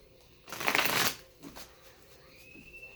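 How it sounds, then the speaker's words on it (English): A deck of playing cards being shuffled during a tarot-style card reading, a short, crisp riffle burst up close followed by softer card handling, with no talk. "Something very satisfying about shuffling a deck of cards too."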